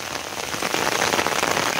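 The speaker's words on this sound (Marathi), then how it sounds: "आणि तोपर्यंत पाऊस आला" Steady rain falls on open fields in the Konkan countryside, a dense, even hiss of drops hitting the ground and vegetation, close and fairly loud, with no voices.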